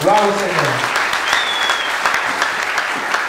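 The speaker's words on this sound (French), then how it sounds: "Applaudissez pour le roi de roi." Congregation applause during a French-language sermon, a dense, steady clapping that starts under a short vocal tail and runs for a few seconds at a moderate level.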